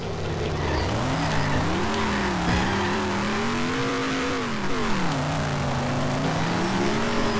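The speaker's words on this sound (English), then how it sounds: "This car is very noisy and slow." A loud, droning, slow car engine in the video game The Simpsons: Hit & Run rises and falls in pitch as it revs, running continuously with no talking.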